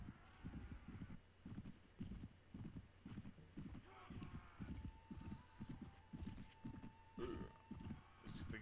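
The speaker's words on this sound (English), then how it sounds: "My horse is not running straight." Rhythmic clip-clop of horse hooves galloping in the Viking Conquest video game, steady and close, with a brief whinny and someone talking over it.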